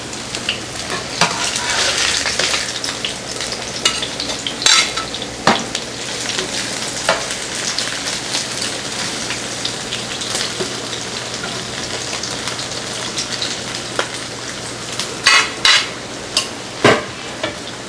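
Mushroom veggie burger patties fry in a pan with a loud, continuous sizzle that runs throughout, broken by occasional sharp pops and crackles, close up with no talking.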